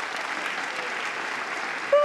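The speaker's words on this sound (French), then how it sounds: "Est-ce qu'on peut applaudir pour lui, s'il vous plaît?" A crowd applauds an award winner in a continuous, moderately loud patter of many clapping hands, steady throughout until a brief tonal sound cuts in at the very end.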